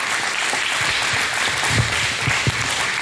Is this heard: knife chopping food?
no